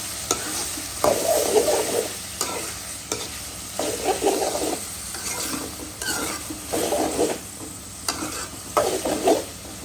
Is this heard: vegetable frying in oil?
yes